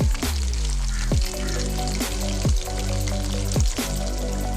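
Squid pieces frying in oil in a pan over a medium flame, a dense steady sizzle broken every second or so by sharp clacking bursts as the pieces are stirred or moved.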